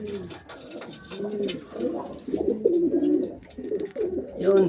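Racing pigeons, checkered and blue bar birds, coo repeatedly at close range in a loft, with soft overlapping throaty calls running throughout and no talk.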